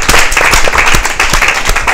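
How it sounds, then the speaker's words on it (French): Loud, close audience applause fills the room, with many hands clapping at once in a thick, continuous roar and a few sharper claps standing out. "On peut applaudir pour ça."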